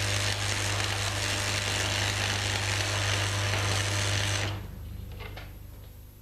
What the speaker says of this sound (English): When the current is too high, it'll be easy to strike the arc and keep it going, but the weld bead will be flat and spattery.